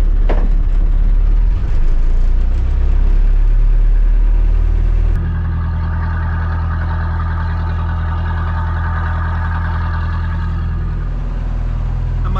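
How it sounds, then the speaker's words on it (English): An old Perkins diesel on a wooden boat cranks and starts, then runs at a steady, loud, close idle with a deep throb and no talking. "Beautiful old Perkins starts first time every time."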